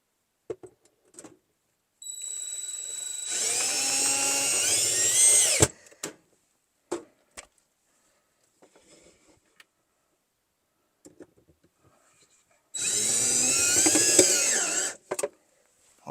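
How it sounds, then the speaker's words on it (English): A power drill whines in two sustained bursts of several seconds, driving screws into the rail of a pull-out turntable shelf, with faint clicks and knocks of handling between runs. "I'm going to put a couple screws here and there"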